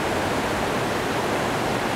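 A waterfall on Vancouver Island roars in a steady, dense broadband rush, loud and close, with no voices.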